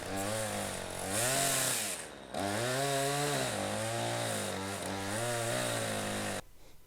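A chainsaw runs at full throttle while making the back cut to fell a tree, a few inches above the face cut. The engine roars steadily and close, dipping briefly once before powering back up, then cuts off near the end.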